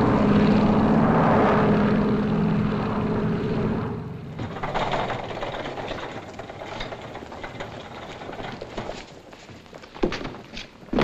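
A propeller airliner in its landing pattern in a 1952 film, a loud steady engine drone that drops away after a few seconds into a quieter cabin hum with faint clatter.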